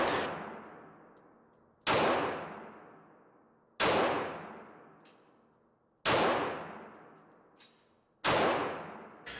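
Five loud, sharp pistol shots from an East German Makarov PM 9x18 fired at targets on a range, each spaced about two seconds apart with a long ringing decay after the crack.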